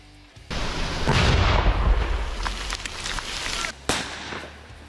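A sudden loud blast from a detonating American plastic explosive charge erupts and rumbles on for several seconds with crackling debris, followed by a second sharp bang, heard from a moderate distance.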